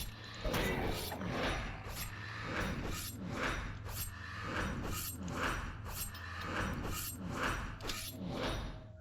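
A trap mechanism in DDO clanks and ratchets as it is disabled, sounding as a regular series of metallic clicks and grinding gear-like strokes repeated over several seconds.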